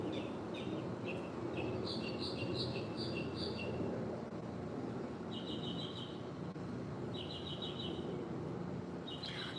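Songbirds chirp and trill in repeated bursts over a steady hum of outdoor background noise, the calls clustering early and again midway, moderately distant and fairly faint.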